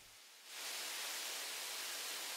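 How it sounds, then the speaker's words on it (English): An ambient vinyl-crackle or white-noise texture in an Afro house track swells in after a quiet start and then holds as a broad, steady hiss, soft and even with no voices. "which is basically some vinyl or white noise."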